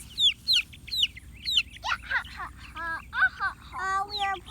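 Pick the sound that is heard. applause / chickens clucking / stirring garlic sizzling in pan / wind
chickens clucking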